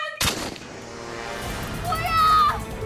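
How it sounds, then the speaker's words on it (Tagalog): A single sharp gunshot from a handgun fired indoors, a loud abrupt bang followed by a ringing decay, with a dramatic music tone swelling underneath afterward. "Nakita pala ni Kuya John ang baril na itinago ni Papa sa kama. Pinaglaruan at naitutok niya sa lalamunan."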